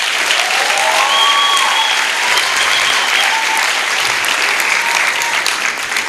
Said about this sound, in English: Now, let us give him a clap, a very good clap.